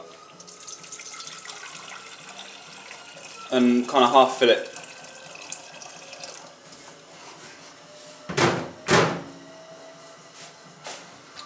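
A kitchen tap runs steadily in the background to fill a kettle while someone talks, with louder splashing bursts and cupboard or door clunks partway through.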